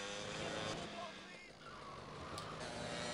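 A motorcycle engine in GTA Liberty City Stories hums steadily throughout, with someone talking over it and a brief high whine near the end.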